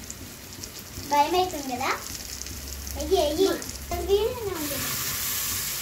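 Chicken pieces go into a hot frying pan for a chicken curry cooked by children, giving a steady, soft sizzle underneath while someone talks in short bursts.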